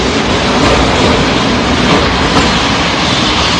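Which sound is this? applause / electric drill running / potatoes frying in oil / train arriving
train arriving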